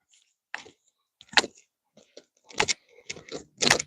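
Keys jangle in several short, bright bursts separated by brief pauses, close and fairly quiet.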